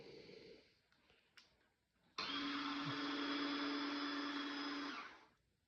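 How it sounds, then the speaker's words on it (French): A Tineco robot vacuum cleaner, showing a DWT full error, switches on abruptly after a few quiet seconds and runs with a loud, steady whine and hum for about three seconds before cutting off. "quand je mets en marche mon aspirateur, hein, je vais le mettre en marche."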